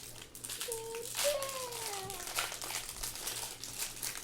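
Foil wrapping on a pack of Topps Series 2 trading cards crinkles and crackles up close, with a louder rustle partway through, while a voice chimes in softly.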